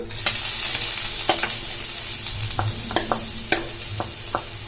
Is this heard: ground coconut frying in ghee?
yes